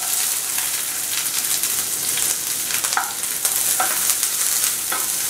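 Chopped onion frying in oil with garlic and curry leaves, a steady hissing sizzle with occasional stirring scrapes across the pan, close and fairly loud, with no talking.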